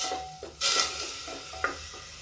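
Onions frying in a little oil are stirred in a pan, with a couple of short scraping stirs over a soft, steady sizzle.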